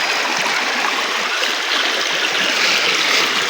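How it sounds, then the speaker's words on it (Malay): River water rushing fast over rocks, a loud, steady broadband splash and gurgle filling the whole clip, heard close with no talk. "Kita dengar dia punya bunyi air pun sudah syok guys."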